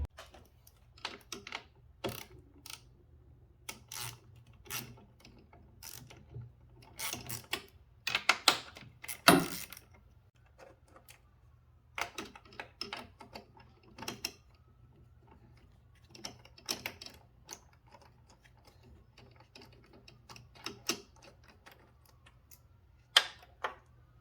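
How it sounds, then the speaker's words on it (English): Ratchet clicks and small metallic taps come in scattered bursts while 10mm nuts are removed from the coolant reservoir of a supercharged 2010 Audi B8 S4, close and fairly quiet. "remove this little 2 10mm nut up top here"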